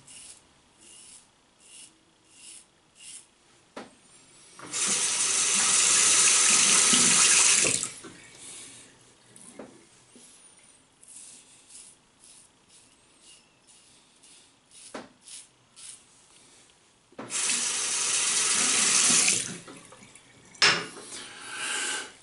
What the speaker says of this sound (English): make sure that you do rinse the razor more often.